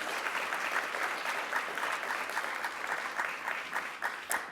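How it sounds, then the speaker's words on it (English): An audience at the CSUN Bull Ring event applauds for Harvey, a Cal State Northridge alumnus, producing steady, dense clapping from a fairly distant crowd that lasts the whole stretch with small swells. "round of applause for Harvey"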